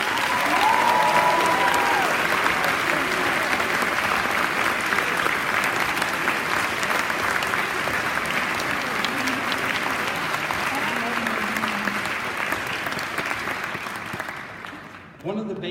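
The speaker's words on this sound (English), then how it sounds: "Let's give them a big round of applause." A large crowd at an awards ceremony applauds steadily and loudly for about fifteen seconds, with some cheering mixed in, before the clapping starts to thin out at the end.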